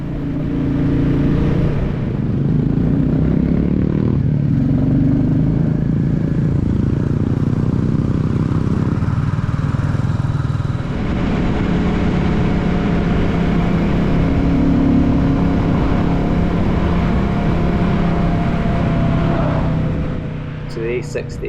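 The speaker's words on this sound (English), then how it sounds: "Hunter's got a Indian aftermarket exhaust which sounds absolutely beautiful" Royal Enfield Hunter motorcycles, one fitted with an Indian aftermarket exhaust, ride out on the road with a continuous low engine rumble and shifting throttle, loud and close over wind, with speech over it.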